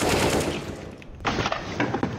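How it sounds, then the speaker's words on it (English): AK rifle fire in the video game CS:GO on the Cache map, a rapid burst of loud automatic shots followed by a brief pause and a few more scattered rounds. "I hit him at least 3 times with AK."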